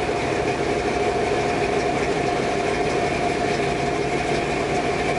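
A 1984 truck engine idling while it warms up, running rich, with a steady, unbroken drone and constant mechanical hum, close and alone without talk.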